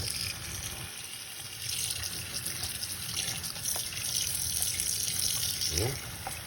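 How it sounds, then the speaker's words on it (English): Water runs steadily into a container to soak microfiber drying towels and wash mitts, a continuous rushing, splashing flow that holds fairly even throughout, close by and moderately loud. "So maybe we'll add a little more water in it."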